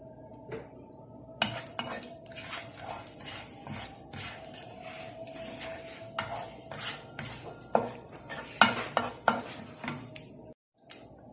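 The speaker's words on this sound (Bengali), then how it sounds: "দিচ্ছি এটার মধ্যে 5 ফোড়ন, 1 চা চামচের মতো। এটা এখন একটু ভেজে নেব।" Panch phoron spices frying in a pan for a Bengali mixed vegetable dish, with a faint sizzle under frequent clinks and scrapes of a metal spoon stirring against the pan.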